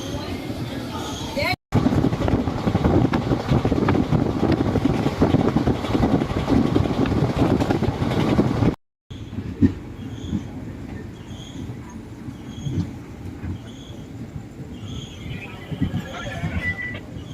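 Himsagar Express pulling out of a station, a steady rumble of rolling stock and engine noise filling the scene, broken by a short gap, with a fainter mechanical hum and scattered tones after; voices talk throughout.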